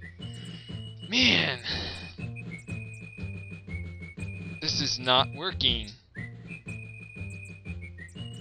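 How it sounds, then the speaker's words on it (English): In the King's Quest V game, a chorus of whistled melody plays over a plucked, rhythmic music loop with bright tonal swoops, while someone talks briefly over it. "Oh, now we got the whistle chorus."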